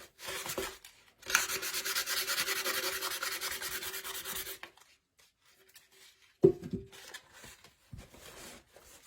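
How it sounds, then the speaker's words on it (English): Sandpaper and a wet rag rubbing over a Dollar Tree candle holder being distressed farmhouse-style, a close, steady scraping that runs for several seconds, then stops before short, quieter rubbing strokes resume. "Even once you get it started with your sandpaper, you could just take your wet rag and start rubbing"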